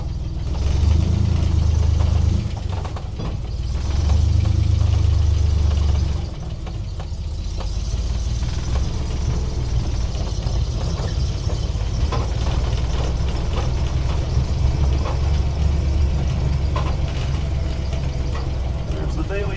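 A 1968 Dodge Dart engine idles steadily with a sticking throttle, its low rumble loud and constant, swelling in two longer surges early on before settling into an even drone.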